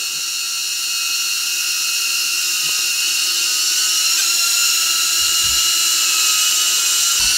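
A HOVERAir X1 Pro drone hovering just before it lands produces a steady, close, high-pitched rotor whine that holds evenly the whole time, with no voices.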